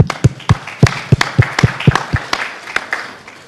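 Sparse applause at a business plenary session for a team, with loud, distinct claps from a few nearby hands in an uneven rhythm, fading toward the end.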